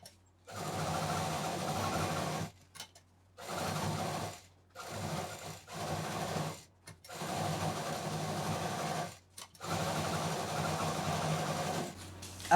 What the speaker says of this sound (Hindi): तो इसको यहाँ पर हम चारों तरफ से सिल देंगे।